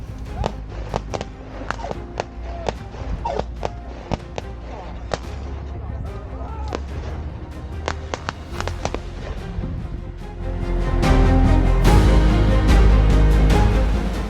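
Gunfire from a D-Day battle reenactment in the Normandy bocage, heard as scattered sharp cracks and pops at varying distances. A denser, louder rumble of firing builds toward the end.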